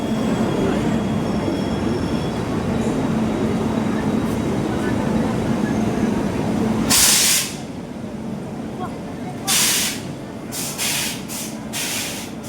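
A train at Madurai railway station: a steady, loud rolling rumble fills the first seven seconds, then gives way to quieter station ambience broken by several short bursts of hissing noise.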